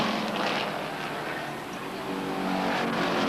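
Stock cars roar around the Beech Ridge Motor Speedway oval in 1991 weekly racing, a dense, steady engine drone from a side-by-side battle for third, swelling slightly toward the end.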